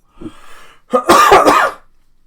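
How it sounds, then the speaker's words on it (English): A short throat noise followed by a burst of several harsh, close coughs in quick succession, then quiet. "I was not coughing till I started this stream"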